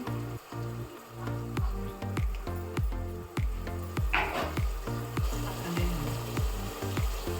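Turmeric added to hot oil for chicken sambar, crackling and sizzling steadily up close with rhythmic stirring pulses throughout, no talk.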